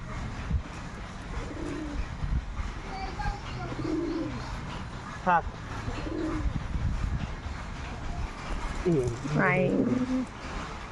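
Pigeons coo in low, soft repeated bursts on a rooftop with a few sharper bird chirps, while a person's voice is heard nearby calling them to feed.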